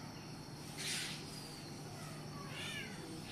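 A black bird mimicking a cat's meow gives two faint, high, meow-like calls, about two seconds apart, over a steady outdoor hum with insect chirring.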